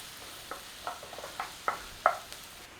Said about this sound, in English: the bacon fat you could use to cook your onions